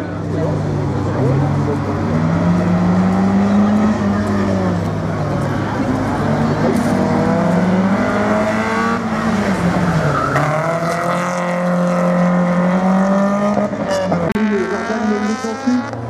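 A race car works through a slalom course at a regional event in Lessay, engine revving up and down steadily with tire squeal, under continuous French commentary from an announcer.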